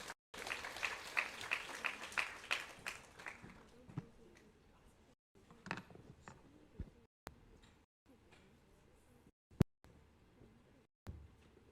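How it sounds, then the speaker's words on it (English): Audience applause at an international conference on sustainable development goals, a burst of clapping from the crowd at the start that fades within a few seconds into quiet room noise with scattered faint thuds. "Let's welcome them with a big round of applause."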